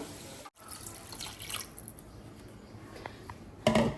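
Water splashes and trickles steadily into a pot, a continuous watery wash with a brief gap and a louder splash near the end.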